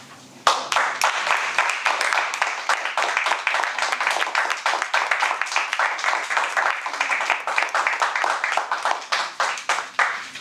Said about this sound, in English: just want to give an extra round of applause to Orlando